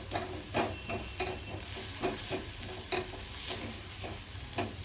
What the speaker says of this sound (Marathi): थोडंसं तेल घेतलंय, त्यात थोडी राई घालून घेऊया. त्याच्यामध्ये आपली ही मिरची टाकूया, थोडंसं बारीक वाटून घेतलेलं.